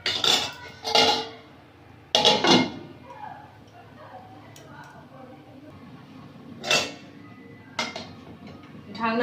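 A lid is set onto a cooking pot in a village kitchen during a fish curry, giving a few sharp metallic clanks and clinks in short bursts, with a voice talking quietly between them.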